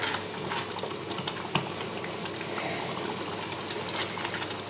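Spaghetti bolognese sauce simmering in a pan over medium heat, a steady close bubbling and soft sizzling hiss with faint pops, continuous and even, no voices.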